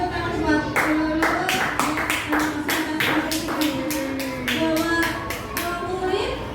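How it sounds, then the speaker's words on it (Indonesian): An audience at a school teacher-training session claps together in a steady, dense burst of hand claps, fairly close and loud throughout, with a faint voice or two underneath. "Terima kasih, tepuk tangan buat Lulu"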